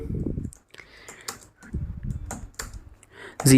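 Keystrokes on a computer keyboard while a Windows command is entered: short bursts of clicking clatter in uneven runs, with someone speaking in between.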